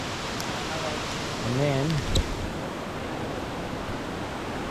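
Steady, broadband rush of a waterfall cascade on Branch Creek at Bellthorpe, constant and close with no pauses, while someone speaks briefly over the roar.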